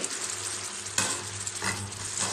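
Fish frying in a pan for a fish roast gives off a steady, close sizzle, broken by a few brief scraping stirs.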